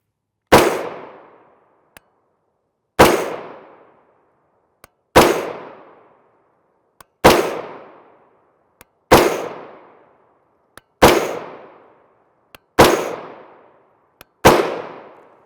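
Eight loud, sharp gunshots from a 300 Blackout rifle with a 7.5 inch PSA upper and Yankee Hill single port QD muzzle brake, firing 110 grain ballistic tip rounds into gel, evenly spaced about two seconds apart, each with a short decaying echo and faint clicks between.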